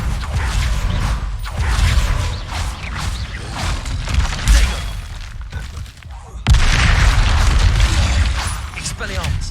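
Spell combat from the Hogwarts Legacy video game: repeated bursts of magical casting mixed with booming impacts and creaking, dense and fairly loud throughout, with a short lull before a sharp renewed surge near the end.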